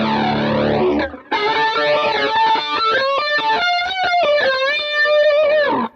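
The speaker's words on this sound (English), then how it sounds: "I have a flanger effect on through the whole song." Electric guitar run through a flanger effect on a Boss GT-1000, sweeping whooshing tones under heavily distorted, sustained playing, loud and continuous apart from a brief break near the start.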